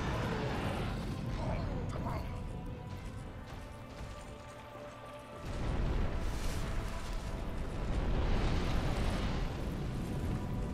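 A roaring, rumbling fire attack in the video game Dark Souls 2 swells into heavy booming bursts and crashing noise, with someone talking over the game sound.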